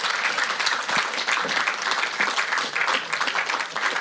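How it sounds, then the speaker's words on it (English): Applause from the audience at the Democracy Union of Africa Forum at KANU Gardens as a panelist is introduced: continuous, fairly loud clapping from many people, steady throughout with no voices standing out. "Please clap for Phoebe Mungai."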